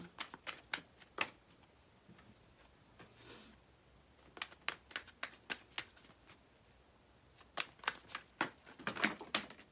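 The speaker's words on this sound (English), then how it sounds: "We're gonna pull a crystal card for you now." Tarot crystal cards are shuffled and pulled, giving bursts of sharp riffling clicks and snaps in quick clusters, close and crisp, with short pauses between rounds.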